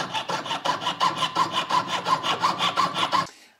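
A hand saw cuts metal around a mammoth ivory ring in a fast, steady back-and-forth rhythm of about a dozen loud, close strokes with a rasping metallic ring, stopping abruptly near the end.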